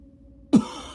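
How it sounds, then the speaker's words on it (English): A single short cough or throat-clearing burst, close and fairly loud, breaks in after a half-second of near-silence and trails off into a faint hiss. "It's a talk cough."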